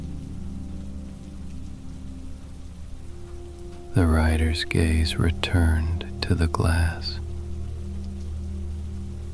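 Steady rain falls on a surface in a quiet room, a soft even hiss throughout, while a person whispers briefly in the middle.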